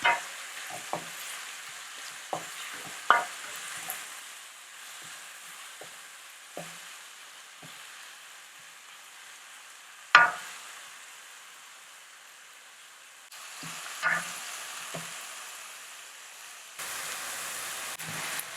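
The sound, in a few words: stir-frying tomatoes, garlic and hot pepper in a pot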